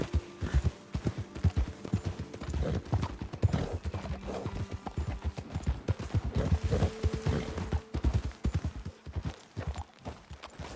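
Horse hooves clip-clop steadily along a trail in the video game Red Dead Redemption 2, a close, continuous rhythmic patter of several horses over low ambient wind, with a brief snort or whinny.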